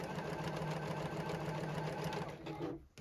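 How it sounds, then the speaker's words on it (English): A JUKI sewing machine back tacks through tote bag handles, a close, steady rapid whir of stitching running for several seconds before stopping briefly and restarting. "am going to back tack at that beginning and end to secure my stitching and just secure my bag handles"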